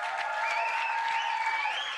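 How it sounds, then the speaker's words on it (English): An audience claps for the Decade of Action for Delivering the SDGs announcement, a steady dense burst of applause lasting two seconds, with a faint tonal music line running beneath it. "Let's have a huge round of applause for the announcement of the of the Decade of Action for Delivering the SDGs."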